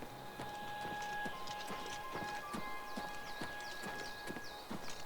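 Horse hooves clip-clop steadily at a walking pace in the video game Oblivion Remastered, a regular rhythm of hoof strikes close by over a bed of game ambience, with no talk.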